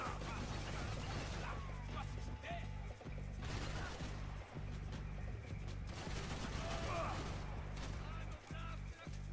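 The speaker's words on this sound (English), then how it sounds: "my gun was shooting straight up in the air" Gunfire crackles through a Max Payne 3 video game firefight, with bursts of shots and crashing impacts over a steady low rumble of game music, loud and continuous across the scene.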